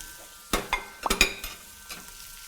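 Onion and leeks being sautéed in melted butter for a white mirepoix, heard as a few distinct stirring scrapes and clinks over a quiet, faint background, with no talking.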